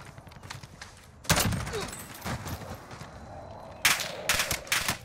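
Kilo 141 rifle gunfire in Call of Duty Warzone, loud close bursts: one sharp volley, a lull with a few scattered shots, then a second cluster of rapid rounds.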